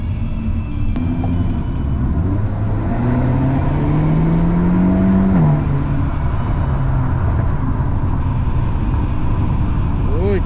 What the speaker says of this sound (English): Este es un motor de 2 litros turbo con 271 caballos.